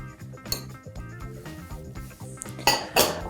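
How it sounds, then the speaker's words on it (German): Eggs and sugar tipped into a mixing bowl for a sponge cake batter, heard as a few sharp clinks and knocks of utensils against the bowl, loudest near the end, over steady soft background music. "geben wir die Eier für den Biskuit in die Rührschüssel zusammen mit dem Zucker"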